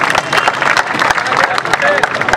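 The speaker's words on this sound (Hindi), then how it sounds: "और भरपूर तालियों के साथ इनकी हौसला अफजाई कीजिए।" Dense, steady applause from an audience at a martial arts display in Pakistan, many hands clapping together continuously at close range, with a faint voice over a loudspeaker and a brief whistle-like tone partway through.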